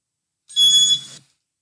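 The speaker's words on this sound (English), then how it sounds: "it's a beep sound" A single short electronic beep, high-pitched and steady, lasting under a second against silence.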